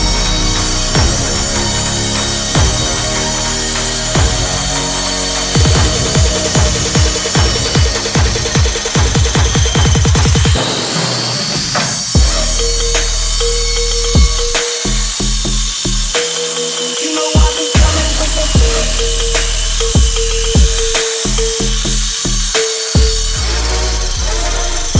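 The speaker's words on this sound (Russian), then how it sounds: "Как всегда, мы делаем фаску маленькой болгаркой." Small angle grinder cuts a chamfer into Kirov brick, a loud continuous high whine with gritty rasping, shifting pitch midway as the disc bites and stutters against the brick.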